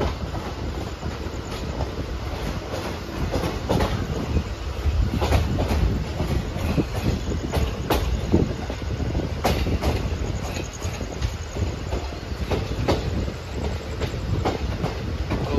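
Shamli–Delhi passenger train running after departing Baraut station in the early morning, heard from on board: steady loud rumble with repeated clickety-clack of wheels over rail joints throughout, no talk.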